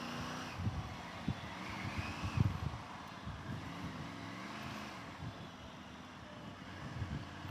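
A Triumph Tiger 900 GT Pro three-cylinder motorcycle engine idling and rumbling at low revs, with a steady low throb, some wind noise, and a few small blips of throttle.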